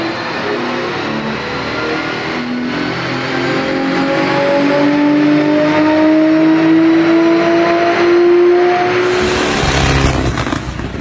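The engine of a Nissan drift car revs hard on a dyno, its loud, close roar climbing steadily in pitch before cutting off abruptly.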